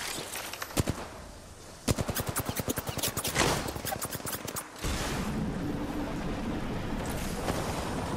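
Gunfire in Apex Legends: a couple of sharp single shots, then a loud, fast rattling burst of automatic fire, followed by a steady roaring hiss with a few more shots.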